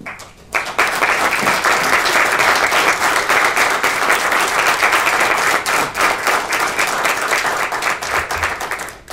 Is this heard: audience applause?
yes